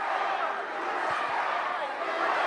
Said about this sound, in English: with a chant of USA